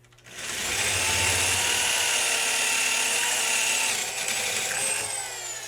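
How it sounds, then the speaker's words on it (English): A power drill with an 8.5 mm bit whines loudly and steadily as it bores out holes for a Timbersled wheel kit, its pitch shifting near the end before it eases off. "We're going to drill out these holes."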